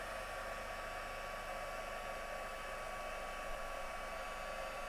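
Heat tool blowing hot air under chunky embossing powder, a constant loud whooshing roar with a steady motor whine, close and uninterrupted, no talking.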